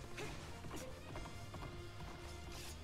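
Epona gallops in the Hyrule Warriors video game, quick hoofbeats thudding under dense battle noise and background music, fairly faint and blended into the mix.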